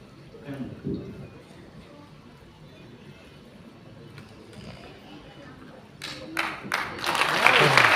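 An audience at a live event in India claps, the applause building in the last couple of seconds from scattered hands to a fuller burst, following quieter background murmur and talk.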